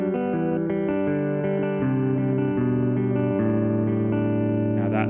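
Acoustic guitar picking a repeating pattern on the third and second strings, with bass notes moving underneath, clear and close, played alone with no talking.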